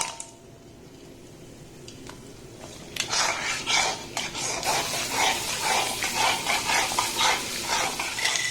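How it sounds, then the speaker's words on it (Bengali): Rice chips deep frying in oil, quiet at first, then a loud, steady crackling sizzle with rhythmic stirring and utensil clatter that continues close and busy to the end. "এইভাবে সমস্ত চালের চিপসগুলোকে সুন্দর করে আমি ভেজে নেব।"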